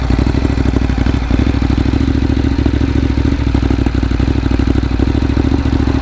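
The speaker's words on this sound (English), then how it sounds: "let's fire it up, let it idle for a few minutes." A motorcycle engine idles close by with a steady, rapid chugging rumble and no voices.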